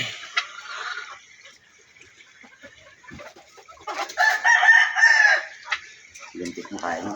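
A farm rooster kept among hens gives one loud, close crow in the middle, with softer clucks and rustling before and after it.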